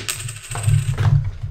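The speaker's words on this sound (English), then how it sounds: "I thought I just heard more coins." Several coins clatter and jingle inside a small toy safe, a quick burst of clinks followed by more rattling, close and fairly loud.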